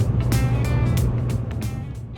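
A 2002 Nissan Sentra SE-R Spec-V drives on Arizona roads toward the Grand Canyon, its engine a steady low drone with road and wind noise that holds loud and even throughout.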